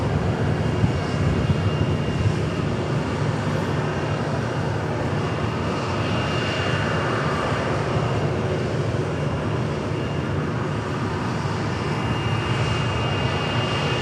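Southwest Airlines Boeing 737 Max 8 at Dallas Love Field, a steady broadband jet-engine roar that holds at an even, fairly loud level throughout, like a plane taxiing or passing nearby, with no voices.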